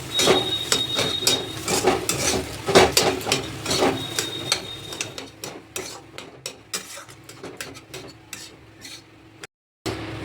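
A spiced potato filling with turmeric and salt is mixed in a pan, with close clattering and scraping of a spoon against metal under a light sizzle, busy at first and thinning out toward the end.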